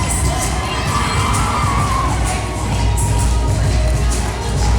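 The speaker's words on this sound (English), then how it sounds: "Crowd loves Maddison Miles here in St. John" A dense, loud wrestling crowd at a live women's match in St. John cheers and shouts nonstop, with high-pitched yells over a steady roar.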